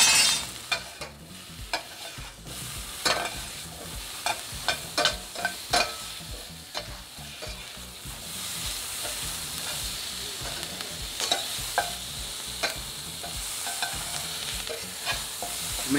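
A pan of food cooking for a filet mignon dinner, stirred with repeated scraping clinks of a utensil over a continuous soft sizzle, close and fairly quiet.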